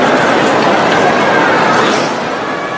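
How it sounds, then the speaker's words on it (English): Chatter of a crowd of people waiting in an airport during a worldwide IT outage that has grounded flights, a dense murmur of many overlapping voices in a large space, loud and steady, easing slightly toward the end. "That is the sound of people just waiting"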